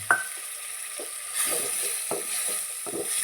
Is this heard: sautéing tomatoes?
yes